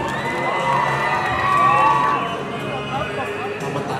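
Crowd cheering and shouting for three Miss Universe Thailand and Miss Universe beauty queens at a Beauty Legend event, a dense, steady roar that swells midway, with an announcer's voice over it.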